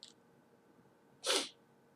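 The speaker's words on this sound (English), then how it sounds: "I'm trying to sneeze here." A single sharp sneeze from a man partway through a chess game analysis, loud and close against a quiet room, preceded by a faint brief sound.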